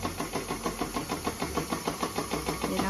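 A stand mixer kneads sourdough brioche dough, its motor whirring steadily close by with a regular rhythmic thump as the hook turns the dough, no voices.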